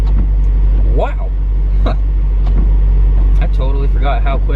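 A 700-horsepower supercharged Corvette pulls hard on a highway with a loud, continuous low roar and a few rising tonal sweeps as it gains speed. Some talk is heard in the cabin.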